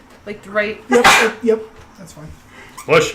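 A sharp, loud sneeze bursts out just after the first second amid casual talk during a tabletop roleplaying game session, with voices speaking before and after it.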